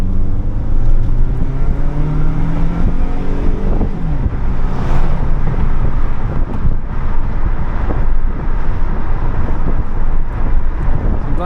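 A Toyota RAV4 engine runs at higher RPM while driving. It is a loud, rumbling engine drone with rising tones early on, heavily mixed with wind buffeting throughout.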